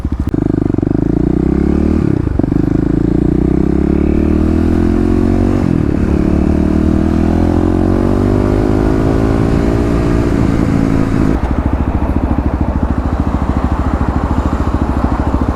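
A 2018 fuel-injected Kawasaki KLX351 dual-sport motorcycle accelerates hard from a standstill toward 60 mph, its loud close engine climbing in pitch through several gear changes with brief dips between shifts, continuous and without talk.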